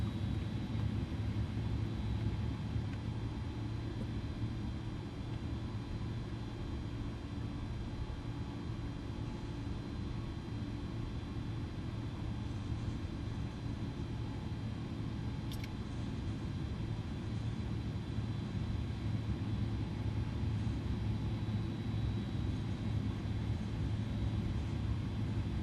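An Airbus A310 airliner taxiing in Microsoft Flight Simulator, a steady low jet engine rumble and whine holding evenly throughout, fairly faint and unbroken, with no talking.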